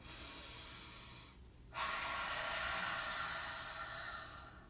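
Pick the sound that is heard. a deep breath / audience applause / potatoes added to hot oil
a deep breath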